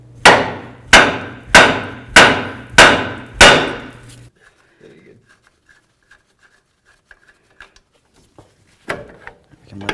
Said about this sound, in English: I'm just going to use my hammer and bonk right along this area right here